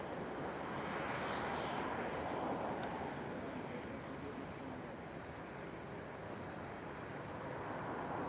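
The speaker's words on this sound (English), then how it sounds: "Our next piece of action is landing." A jet airliner lands at Lisbon Airport on a cloudy, windy evening, its broad engine roar steady and moderately distant, mixed with wind rumble throughout.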